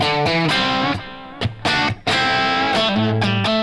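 An electric guitar plays through a delay effect with the reverb switched off, giving dry, sustained chords and notes that trail into repeating echoes.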